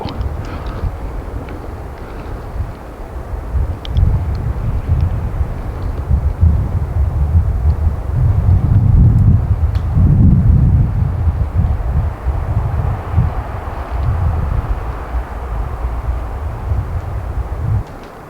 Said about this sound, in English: Come on, wind hold.